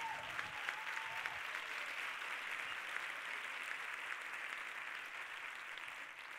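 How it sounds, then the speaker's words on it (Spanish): An audience at a Famelab science-talk semifinal in Barcelona applauds steadily, dense even clapping from many hands that carries on without pause and tapers slightly at the end. "no sé muy bien qué aplaudís"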